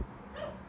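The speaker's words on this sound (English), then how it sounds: "excuse the dog barking in the background" A dog barks and whimpers in the background at a steady, moderate level, with no talk over it.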